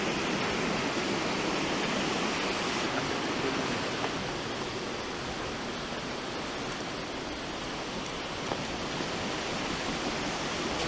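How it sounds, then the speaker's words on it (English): Steady, dense rush of flowing water from a water wheel exhibit at a historic mill, churning in a channel, continuous and unbroken with no voices. "Water wheel exhibit."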